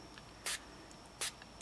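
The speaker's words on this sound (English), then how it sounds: "Now I can keep spraying over here," Two short hisses of a spray bottle misting water over watercolor powder paint on cardstock, each a brief quiet burst about a second apart against a faint background hum.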